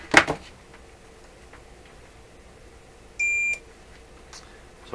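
A multimeter on continuity setting gives a single steady electronic beep of about a third of a second, preceded by a brief clatter of handling while checking a switch on a Florida AM/FM/SW tube radio.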